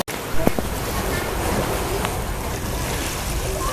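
Strong ocean waves wash in at a swimming beach, a steady loud roar of surf mixed with wind buffeting the microphone, with no clear voices over it.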